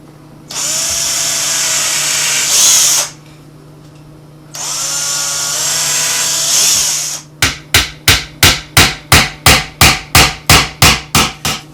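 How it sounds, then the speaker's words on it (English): A power drill fitted with a mini bit pre-drills nail holes in wood for a weasel box trap, running in two long steady whirring bursts, followed by a quick regular series of hammer blows. "a mini drill bit to pre-drill the holes of actually where I'm going to nail at"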